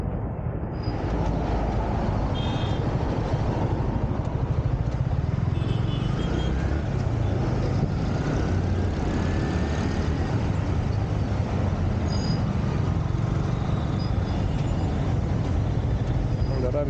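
Heavy road traffic heard from a car stuck in a jam, a constant loud low rumble of engines with passing cars and motorcycles and occasional faint horns or squeals, with some talk inside the vehicle.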